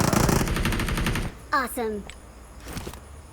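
Rapid automatic gunfire in a shooting video game rattles loudly for over a second, then cuts off into short game sound effects and faint background noise.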